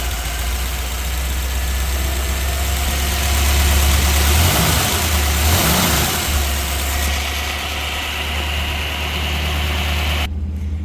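A 1955 Ford Thunderbird engine runs at a loud, steady idle close by. It rises in two brief revs midway, then settles back to a low rumble with no talking.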